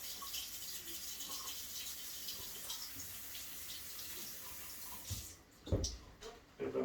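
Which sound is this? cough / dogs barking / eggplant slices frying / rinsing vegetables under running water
rinsing vegetables under running water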